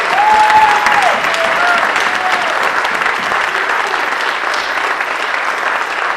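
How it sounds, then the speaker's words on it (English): Loud, sustained applause from a community rally crowd at the Rotunda in Philadelphia, steady dense clapping over several seconds with a faint voice or tone drifting through it. "Let's give them all a round of applause."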